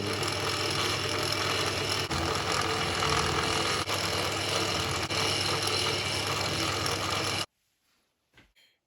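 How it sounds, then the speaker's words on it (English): A lathe turns a drill bit at high speed while drilling a bolt circle, giving a steady, loud mechanical whir with faint periodic ticks for about seven seconds before cutting off abruptly, followed by a couple of quiet knocks. "We want to slow the drill down a bit. He's going mighty fast."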